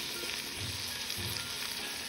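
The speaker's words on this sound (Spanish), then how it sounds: "vamos a agregar toda nuestra verdura, para que también cojan el saborcito del tocino y del chorizo" Vegetables frying with bacon and chorizo in a pan, a quiet, even sizzle throughout with a couple of soft stirring bumps, no voices.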